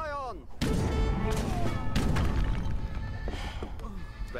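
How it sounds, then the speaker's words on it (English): Cannon fire and battle impacts in the video game Age of Empires 3 during a campaign mission, heavy booming thuds and crashes layered with clashing effects, loud and continuous after a brief tonal cue. "Oh no, we got a cannon."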